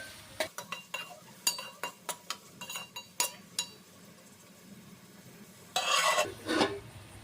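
Onions sautéing with a pinch of salt in a pan, a run of sharp spoon taps and scrapes against the metal, then a brief louder burst of sizzle near the end, close and without talk.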